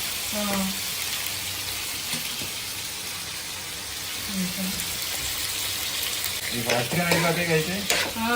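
Chicken liver fries in a pan with a continuous hissing sizzle, punctuated by scraping stirs of a utensil; brief voices come and go faintly in the background.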